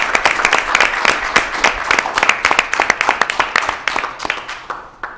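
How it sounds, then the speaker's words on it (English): Sustained round of applause from a school board meeting audience, dense irregular clapping from a crowd of people lasting several seconds, fairly loud and close, no talk over it. "I'd like to give a round of applause to Global Water for that."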